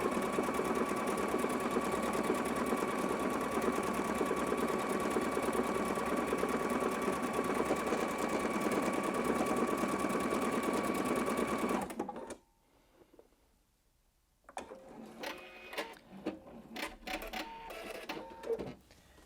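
Husqvarna Viking Designer Ruby 90 sewing machine stitching fabric with a steady, fast whirring hum for about twelve seconds, close by, then stopping abruptly; after a brief silence, faint handling and movement sounds follow.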